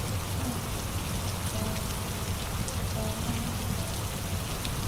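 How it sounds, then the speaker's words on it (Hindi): Steady rain falls outside a poor family's house during a downpour, a dense continuous hiss of drops hitting surfaces with a low rumbling undertone, constant and fairly close with no voices. "बाहर बारिश देखने चला जाता है।"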